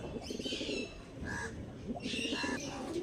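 High-quality Andhra pigeons, including a Star Kalanka, coo in a few short throaty bursts close by, with faint chirps alongside and no speech.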